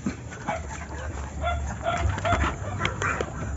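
A red junglefowl (labuyo) rooster crows nearby, one drawn-out call that stands out clearly over a low hum of background noise.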